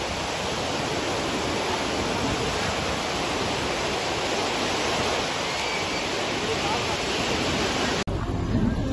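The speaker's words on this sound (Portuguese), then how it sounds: "Já eu mostro pra vocês esse mar maravilhoso." Sea waves breaking on a beach at Bombinhas on the Santa Catarina coast at night: a steady, dense wash of surf noise that fills the whole stretch, with no pauses between breakers.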